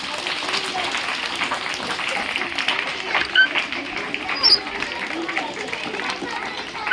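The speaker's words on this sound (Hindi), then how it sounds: "जोरदार ताली लगाओ बेटा।" Children at a school prayer assembly applaud loudly in a steady wash of clapping, with chatter and young voices mixed in throughout.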